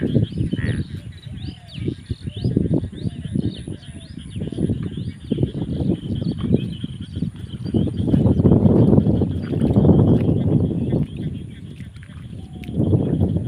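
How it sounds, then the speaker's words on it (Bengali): Frogs in Natore, Bangladesh croak in repeated low, throaty bursts across the whole stretch, layered with a steady high insect-like whine in the background. "দেখেন ঘাপো ব্যাঙ কীভাবে ডাকছে।"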